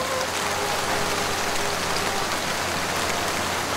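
Heavy rain pours steadily over a village at night, a dense, continuous broadband hiss of drops on surfaces with no pauses, loud and close throughout.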